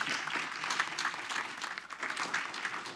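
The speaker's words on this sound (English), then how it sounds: "Let's give a big round of applause" Sustained applause from an audience at a city council regular meeting, following mention of a Cuban festival; dense, steady clapping fills the whole stretch at a moderate distance with no speech over it.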